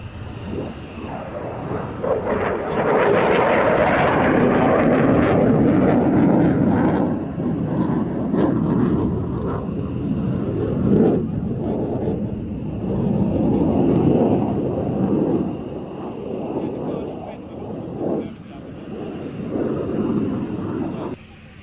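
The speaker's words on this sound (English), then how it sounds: "Same beautiful plane." Aircraft arriving at the Royal International Air Tattoo airshow, including an Italian Typhoon jet, roar loudly and steadily overhead for the whole stretch, swelling early and then rumbling on with wind buffeting the microphone.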